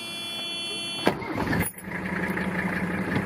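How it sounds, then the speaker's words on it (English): A 1983 Mercedes-Benz 300TD diesel engine cranks briefly and catches, then settles into a steady, close idle with a low rumble. "We can give it a little start up here if you want to hear it start up."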